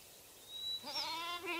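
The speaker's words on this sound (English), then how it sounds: "Up on the mountain, the goats eat hungrily." A goat bleats once on a mountain pasture, a short wavering nasal call close and clear over quiet background.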